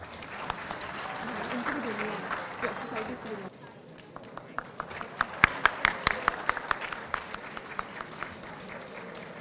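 Applause at a student Model UN closing ceremony as sponsors are called to the stage, a crowd clapping under a hubbub of voices, then a sharper, more scattered round of close claps after a brief lull.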